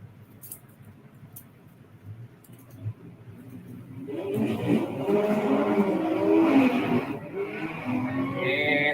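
Volkswagen gasser drag car launching at a Southeast Gassers drag race in Ringo, Georgia: quiet idle background, then from about four seconds a loud, sustained engine roar builds and holds, rising in pitch toward the end.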